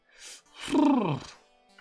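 A person gives a long, drawn-out yawn, close and clear: a brief breathy intake, then a strained, groaning tone that swells and slides downward before fading.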